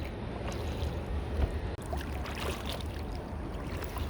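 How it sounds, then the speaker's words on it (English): A kayak runs through river rapids, with continuous rushing and splashing water close by and a bump on the hull partway through. "Going through some rapids here"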